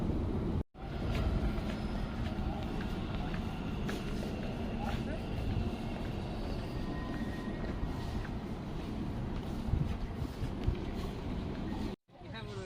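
Inside a general coach of a moving train, a continuous rumbling clatter of wheels and carriage runs steadily, with brief dropouts near the start and end, while people talk over the noise.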